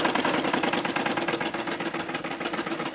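A sewing machine stitching the seam of a potli neck design on a kurti, running steadily at close range with a fast, even mechanical whir and rhythmic needle pulses throughout.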